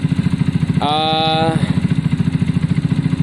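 A Zontes motorcycle, just repaired, runs on a quick test ride with a close, steady chugging engine pulse; a brief rising whine sits over it partway through.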